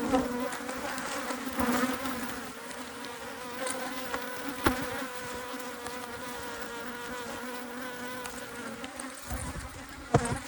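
Agitated VSH Italian honey bees at an open hive in Texas make a constant, dense buzz with individual bees droning close past, faint overall but unbroken for about ten seconds.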